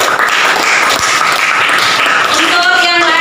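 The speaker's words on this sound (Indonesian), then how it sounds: "kita tepuk tangan untuk kelompok 2" Students applauding for a winning group in a classroom, loud dense clapping throughout with voices mixed in.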